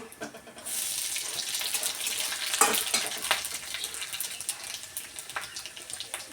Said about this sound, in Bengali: এবার দিয়ে দিব কালো জিরা, একটু বেশি করেই দিব।